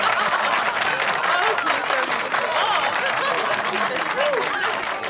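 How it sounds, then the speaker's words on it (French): Loud, dense audience applause for a star guest on a cartoon show featuring the Marsupilami, a continuous crowd roar of clapping with chuckles and other voices mixed in underneath. "On peut l'applaudir."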